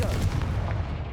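A Confringo blasting spell explosion in the Hogwarts Legacy video game: one short, booming burst with a heavy low rumble that quickly fades, heard alone.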